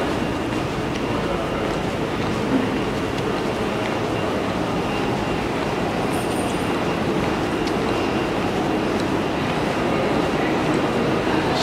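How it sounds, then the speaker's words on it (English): A train rumbles and clatters continuously at a small Slovenian train station, loud and steady, with broad mechanical noise filling the whole stretch. "It's a small train station, but it makes the deal."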